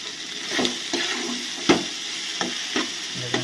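A spatula stirs food mixed with mustard paste in a sizzling frying pan, making close scraping strokes at an irregular rhythm over a steady fry.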